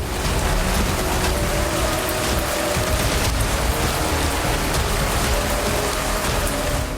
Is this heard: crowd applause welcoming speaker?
no